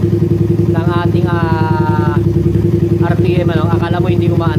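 A Raider 166cc motorcycle with a 66 bore idles steadily up close, its even low throb unbroken while someone talks over it.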